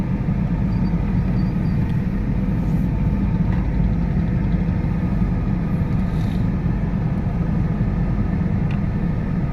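A Tatra truck's low engine rumble drones steadily throughout as it drives past in Ambala Cantonment, loud and close, with a constant deep roar and no voices.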